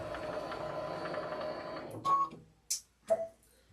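A sewing machine runs steadily, stitching a pillow with embroidered sashing, a continuous mechanical whir lasting about two seconds before it stops, followed by a few short separate bursts.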